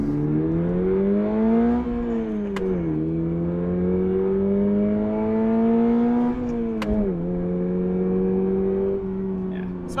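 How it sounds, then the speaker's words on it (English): Engine of a 2022 Toyota GR 86 sports car pulling hard in track mode, a steady loud rising drone with harmonics climbing as revs build, dipping briefly at shifts, heard from inside the cabin. "We're gonna go ahead and take another lap here just to get a couple more acceleration pulls going up the road."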